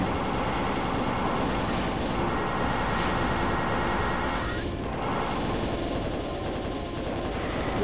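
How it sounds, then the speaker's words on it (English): Plasma cannon in Doom 2 firing a continuous loud stream of buzzing energy shots, with dense, harsh rapid bursts filling the whole stretch and a brief dip partway through. "The plasma cannon is just so damn loud."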